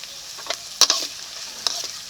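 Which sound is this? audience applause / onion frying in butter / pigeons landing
onion frying in butter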